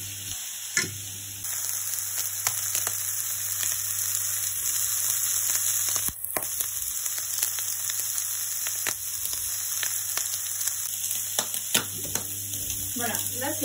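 Sausage and herbs browning in a frying pan give a steady sizzle and fry that runs throughout, with occasional clinks and stirring sounds over the hiss.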